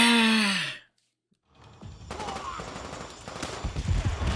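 Rapid gunfire in Call of Duty: World at War co-op rattles in after a brief sigh and a moment of silence, with bursts growing denser and louder toward the end.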